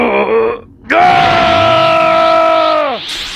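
A person imitates Gohan's scream from Dragon Ball, opening with a short strained cry, then after a brief pause launching into a sustained, steady, harmonically rich yell of about two seconds that bends downward and fades.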